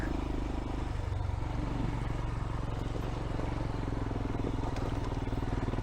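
Royal Enfield motorcycle ridden off-road on a mountain trail in the Picos de Europa, Spain, its engine a steady loud thumping drone with rattles and wind noise throughout.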